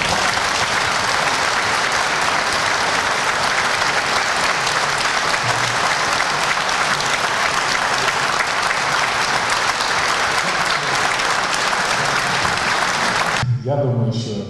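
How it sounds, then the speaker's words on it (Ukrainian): Sustained audience applause for an official at a Ukrainian public gathering, dense and loud clapping from a large crowd held steadily for many seconds before cutting off abruptly near the end. "Давайте оплески"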